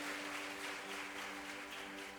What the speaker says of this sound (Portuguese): Você pode aplaudir o Senhor, dar glória a Deus bem forte.